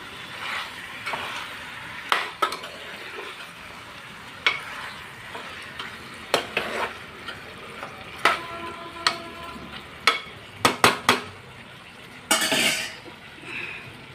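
A spoon works a chicken curry mixture around a pan, knocking the metal at uneven intervals. Scraping strokes and soft sizzling fill the gaps between the knocks, and no one talks.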